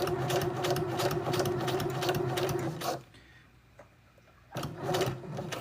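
Sewing machine stitching a fabric pocket, whirring steadily for about three seconds, going quiet briefly, then starting up again near the end.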